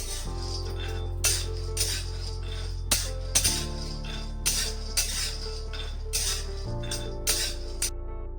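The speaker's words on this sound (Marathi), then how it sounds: "तर मी आता शेंगदाणे छान खरपूस भाजून घेते" Peanuts are dry roasted in a pan, stirred with scattered rattling clinks and scrapes over a steady background hum.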